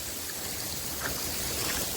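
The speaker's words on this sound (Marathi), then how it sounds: "हा धबधबा बघा तुम्ही एवढं वरून पडतोय" A waterfall drops from a height beside a cave near Murbad, making a steady, dense rushing roar. It stays even throughout, with no voices over it.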